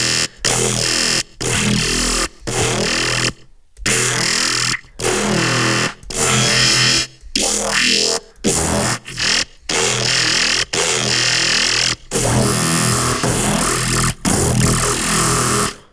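Bass presets from the Thermal synth plugin in Ableton play one after another as loud, buzzing, gritty tones in short bursts, each separated by brief silences, with no talking.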